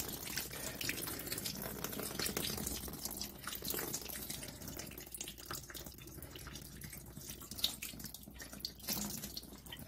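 Water trickles and drips steadily from a rust-cracked, drained thermal expansion tank in a home heating system, a faint continuous splashing with no voices.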